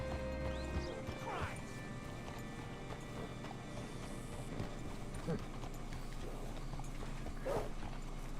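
Horse hooves clip-clop in a steady rhythm in the video game Red Dead Redemption 2, with a brief whinny and low background ambience.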